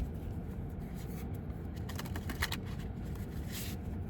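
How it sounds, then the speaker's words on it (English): Tarot cards riffled together in a ruffle shuffle, faint papery flutters and soft clicks in a couple of short bursts over a steady low background hum. "Let's give them a ruffle shuffle"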